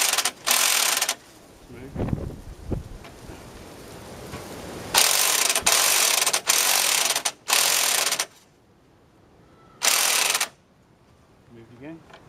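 A ratchet wrench works the nut on a car's suspension strut with the strut still fitted, in several loud bursts of rapid clicking separated by pauses. A brief spoken word and a few quiet knocks fall between the bursts.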